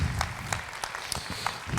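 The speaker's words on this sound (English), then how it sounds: "Let's give Bryan a big round of applause." A chapel audience claps for a speaker named Bryan, a dense, steady round of applause from a crowd throughout, fairly loud and close, with no individual voices standing out.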